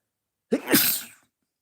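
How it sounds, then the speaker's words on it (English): A single sharp sneeze, sudden and close, with a quick intake followed by a breathy burst, then silence. "I'm going to sneeze."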